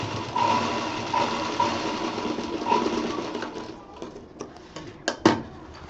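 A sewing machine stitches a zip onto a kids' round bag in a steady whirring run, then slows into a few separate clattering stitches and sharp clicks before stopping.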